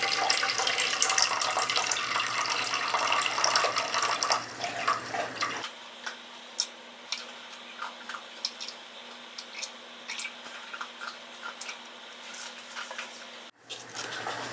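Water poured from a tap into a bowl for pizza dough autolyse, 260 grams: a steady rushing flow for several seconds, then a quieter trickle with small splashes and drips, stopping near the end.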